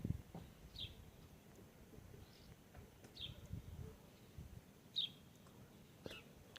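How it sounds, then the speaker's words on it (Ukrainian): Small birds chirp in a spring outdoor setting, four brief high chirps spaced a second or two apart over low background rumble; no rooster crow stands out. "Півні співають, пташки цвірінькають."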